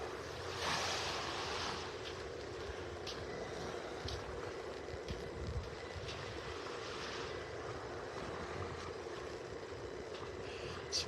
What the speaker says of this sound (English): It's a very, very peaceful, quiet morning here at the beach.